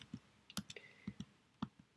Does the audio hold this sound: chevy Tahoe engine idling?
no